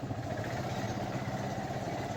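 A small amusement park train's engine running steadily nearby, with a rattling, auto-rickshaw-like putter that stays at an even level throughout.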